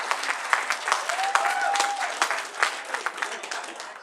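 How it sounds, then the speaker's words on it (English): A crowd at a furry convention closing ceremony gives a lively round of applause, many hands clapping at once with a few sharper claps, and a brief whistle rising above the noise before it tapers off. "Big round of applause to Pat and the rest of our crew"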